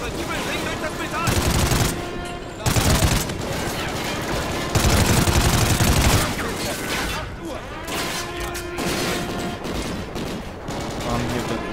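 Call of Duty: Ghosts firefight with sustained bursts of automatic gunfire and rattling volleys, loud and dense, pausing briefly between salvos, with a voice speaking German over parts of it.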